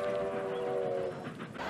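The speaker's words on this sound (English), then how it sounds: "Ted just pulled off the greatest train dodge since Stand By Me." A train passes on the tracks, a loud sustained rumble with a steady tonal hum or horn-like drone in the first second, close and alone, fading slightly toward the end.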